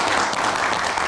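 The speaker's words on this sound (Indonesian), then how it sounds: "Kita berikan tepuk tangan." Studio audience applause on a television talk show, a brief burst of dense clapping at steady volume.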